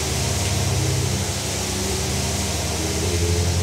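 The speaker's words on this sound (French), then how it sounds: "Et puis maintenant, on lance le moteur." A Ferrari Formula 1 engine fires up on a test bench and settles into a steady low idle around 1800 rpm. It makes a constant, loud rumble with hum and broadband fan noise.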